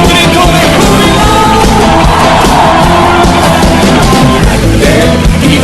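A church congregation shouts for joy, a loud, dense, unbroken roar of many voices cheering and yelling together that fills the space for the whole stretch.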